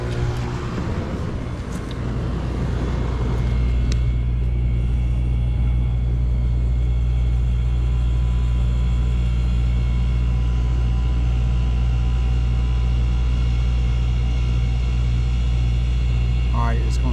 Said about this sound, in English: That way the motor can go ahead and decide what direction it's going to run.